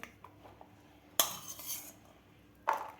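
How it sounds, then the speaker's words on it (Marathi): A metal spoon scoops boiled black chickpeas and tomato out of a pressure cooker into a dish, giving two short clinking scrapes against the metal, with quiet pauses around them. "आता यामधले आपल्याला अर्धे चणे एका डिशमध्ये काढून घ्यायचे आहेत टोमॅटोसुद्धा आपल्याला काढून घ्यायचा आहे"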